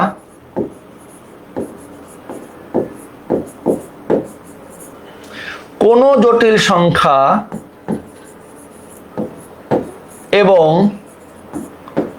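Chalk or marker writing on a board during a higher-math lecture on complex numbers, with short scratchy strokes repeating in an irregular rhythm, close up, broken by brief spoken phrases from the lecturer.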